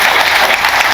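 Applause from a crowd at a political rally in Sagar addressed by Chief Minister Mohan Yadav, a steady dense wash of clapping filling the whole second with no break.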